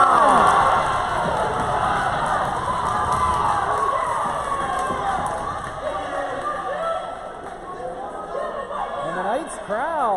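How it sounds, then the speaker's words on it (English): A Central Penn College Knights men's basketball home crowd cheers and shouts for player Cameron Wilson during a game against Christendom College, loud and sustained with chatter and a commentator speaking over it. "And the Knights crowd shows their love for Cameron Wilson."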